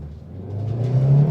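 An MG car accelerates on a test track, its engine note rising steadily in pitch and loudness as it pulls away, close and without talk.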